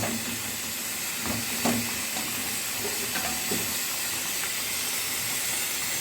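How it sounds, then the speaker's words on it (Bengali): Fried fish goes into a simmering Bengali fish curry with potatoes and green banana. A continuous close bubbling hiss carries a few soft plops and light knocks as the pieces are added. "এবার দিয়ে দিচ্ছি মাছ, ভাজা মাছগুলো দিয়ে দিচ্ছি।"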